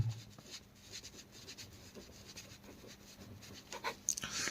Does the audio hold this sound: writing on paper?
yes